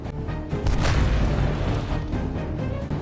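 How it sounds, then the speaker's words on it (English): Explosion in war combat footage from fighting between Ukrainian and Russian forces: a deep rumbling blast that swells and lingers with low booming and debris-like crackle, loud and close, with no voices. "boom, another explosion, another invader who won't be going home."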